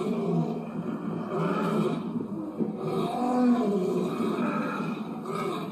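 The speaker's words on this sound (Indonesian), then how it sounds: "Tiba-tiba datanglah seekor singa yang mengintai" A lion's roar used as a sound effect in a told story, a loud, sustained growling roar with rising and falling swells over several seconds, close and alone without talk.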